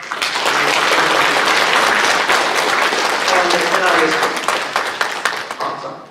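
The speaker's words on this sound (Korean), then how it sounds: "박수하십시다." A church congregation applauds right after a baptism, dense sustained clapping from many people filling the room, loud and even before tapering off, with a voice speaking briefly over it.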